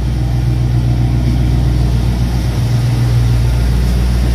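Ford Bronco truck engine idling, a loud, close, steady low rumble with a constant throb running the whole time, no voices over it.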